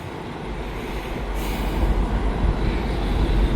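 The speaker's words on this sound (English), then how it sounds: "this should be a continuous welded rail train" A continuous welded rail train rolls past at close range, a steady, loud rumble of wheels on track that builds slightly over the few seconds.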